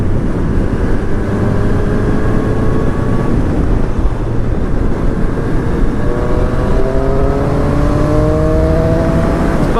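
A 2019 Honda CB1000R motorcycle accelerating on a country road, its engine note rising in several climbing pitch sweeps over loud, steady wind rumble, close to the rider with no talking.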